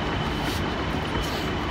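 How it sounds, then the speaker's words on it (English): A train sounds at a station reached by escalator, giving a steady, loud rumbling roar that fills the whole moment without any talking. "That's my train."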